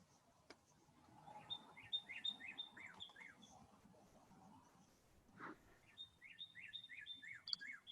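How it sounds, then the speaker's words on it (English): Birds chirp in the background during an online meeting, a faint repeated series of high tweets in two bursts, behind soft talking and room noise. "I like hearing the birds in your background there."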